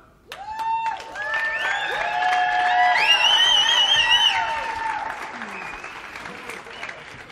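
A panel event audience bursts into loud applause, whoops and cheers as a panelist walks on stage. The clapping swells to a dense roar, then tapers off.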